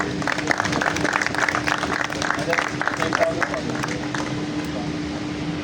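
An audience applauds Ustad Khawar at a competition gathering, a dense, steady wash of clapping from a crowd that holds at an even level throughout, mixed with a loud hum.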